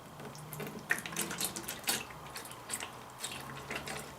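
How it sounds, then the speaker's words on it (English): Engine oil poured from a container into the engine of a Suzuki Boulevard C50T motorcycle, a close, steady liquid trickle and glug lasting a few seconds, with no talking. "Put the oil in."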